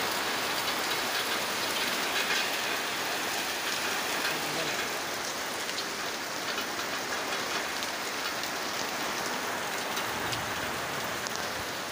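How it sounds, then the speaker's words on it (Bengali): Dense, loud rain pours down steadily without a break, a continuous heavy hiss of drops on surfaces. "প্রচুর জোরে বৃষ্টি হচ্ছে।"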